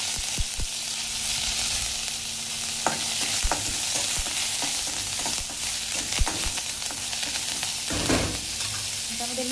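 Curry leaves, mustard seeds and cumin crackle and sizzle in hot oil for rasam, with a steady, loud frying hiss and scattered sharp pops and spatters throughout, no talking.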